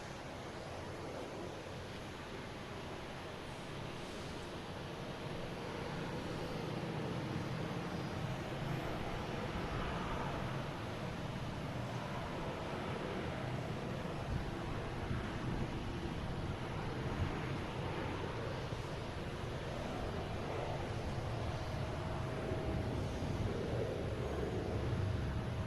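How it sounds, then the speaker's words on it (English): An Aer Lingus Airbus A330-300 arriving from Dublin gives a faint, distant jet rumble that swells slowly across a long stretch, mixed with wind noise and no talking. "We got Aer Lingus coming in. From Dublin, an A330-300,"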